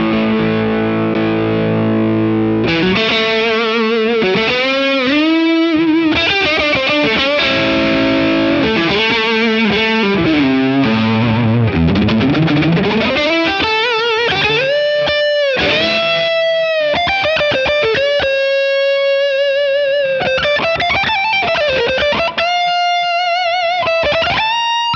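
Distorted electric guitar with Alnico 4 pickups and a boost engaged, playing a loud, continuous solo line with bends and sustained notes alongside chugging rhythm phrases.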